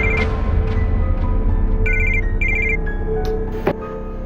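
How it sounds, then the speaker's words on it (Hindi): A telephone rings with short repeated electronic tones over a steady low background hum, followed by a brief clatter near the end. "किसका फोन है?"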